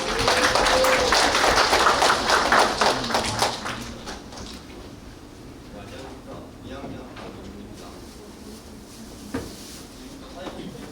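Audience applause at a social welfare department academic festival presentation, a dense burst of clapping for about three and a half seconds that fades, followed by someone talking.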